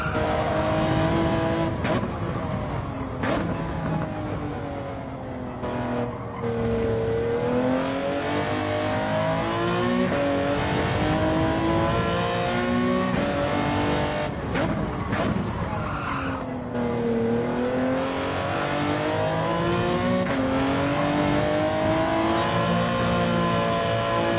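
Gran Turismo 7 race car engine sound from a VR race, loud and continuous, with revs rising and falling through gear changes and bursts of tire squeal as the car corners.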